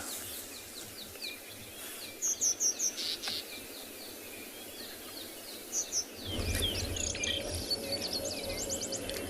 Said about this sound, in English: It's rather peaceful, but lots of birds calling.